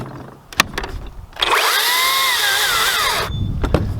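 A small Makita battery-powered chainsaw motor whirs steadily for nearly two seconds, close and loud, with a few knocks and handling noises before and after.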